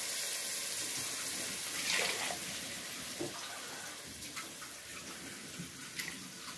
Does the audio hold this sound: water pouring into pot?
yes